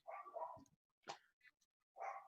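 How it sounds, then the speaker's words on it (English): Pet dogs bark upstairs indoors, a few faint, muffled yips and barks in short bursts separated by quiet gaps, heard from a distance through the house. "Great, now my dogs are going crazy upstairs."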